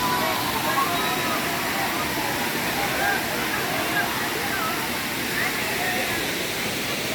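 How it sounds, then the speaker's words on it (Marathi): Sawdav waterfall in the Konkan hills roaring as a steady, dense broadband rush of falling water, loud and unbroken throughout, with no voices heard. "अतिशय सुंदर निसर्गरम्य असा धबधबा आहे."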